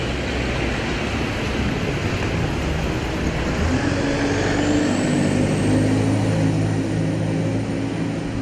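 A Stagecoach double-decker London bus, fleet number 13102 on Route 47, pulls away from Liverpool Street bus station with a steady loud engine drone, rising in pitch as it accelerates, with a whining tone building, alone without talk.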